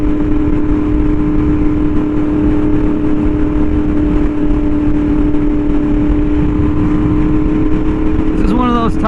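A Yamaha R1M motorcycle with an SC Project exhaust rides along a scenic road, its engine a loud, steady drone under heavy wind rush from start to finish, and a voice comes in briefly at the very end.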